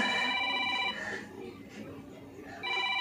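A telephone rings in a hospital emergency ward with a tonal electronic ringtone, one burst at the start and another near the end with a quieter gap between, over faint room noise.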